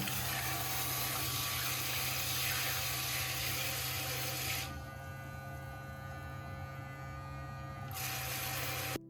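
A portable electric shower pump runs with a steady mechanical hum and buzz, close and constant, easing slightly quieter partway through before returning.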